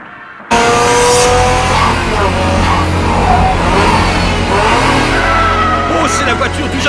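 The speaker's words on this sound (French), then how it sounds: "Oh, c'est la voiture du jeune Takahashi." Young Takahashi's car in an Initial D street race scene, its engine droning loud and steady with revving and tire noise as it passes close, while voices and music run underneath.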